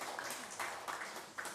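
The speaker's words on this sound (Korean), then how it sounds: "우리 박수로 영광 드립시다." A church congregation claps together during a Sunday worship service, a soft, distant patter of many hands, brief and fairly faint.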